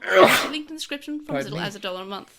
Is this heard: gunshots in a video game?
no